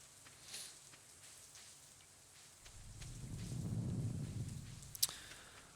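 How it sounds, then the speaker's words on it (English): Stardew Valley's in-game rain hisses quietly with faint scattered drips, building into a fuller swell of rainfall midway and then easing, with a single sharp click near the end. "I love the sound of Stardew Valley, the rain."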